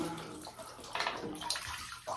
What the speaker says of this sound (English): So I'm first gonna get my hair wet.